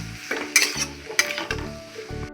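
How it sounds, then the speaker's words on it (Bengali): Bottle gourd pieces stirred with salt and turmeric in a pan, a spoon scraping and clacking against the metal in several distinct strokes over a soft sizzle. "লাউটা দিয়ে দিয়েছি এবার নাড়াচাড়া করে নুন হলুদ দিয়ে নাড়াচাড়া করে নিলাম"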